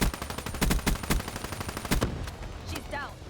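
Rapid bursts of close automatic gunfire in a Black Ops 3 multiplayer match, loud repeated shots that fade into quieter background game noise near the end.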